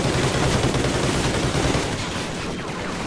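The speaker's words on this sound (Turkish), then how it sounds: "Ratata diye tarıyorum, ona rağmen yani çok vuruyorlar." Automatic gunfire in the video game Call of Duty: Ghosts, a dense, continuous burst of rapid shots, loud and close, easing slightly toward the end.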